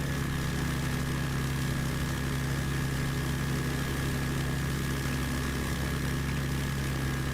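Propeller aircraft engine from Microsoft Flight Simulator during an eSTOL takeoff, flown without the cowling; a steady, continuous drone with a low hum and tonal whine, loud and constant throughout with no talk.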